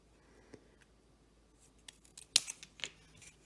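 Scissors snip the corners of paper pieces for a mini album, giving a few faint, sharp cuts spaced irregularly in a quiet room.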